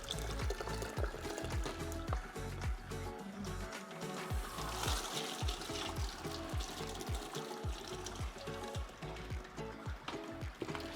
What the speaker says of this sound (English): the way to get all those sugars out is to run regular water over the top